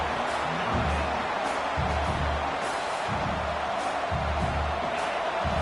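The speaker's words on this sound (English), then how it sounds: "Listen to this crowd just shaking the girders of this place, trying to help their defense." A roaring stadium crowd at a football game cheers and yells to rally its defense, a steady wash of distant crowd noise with repeated low rumbling swells.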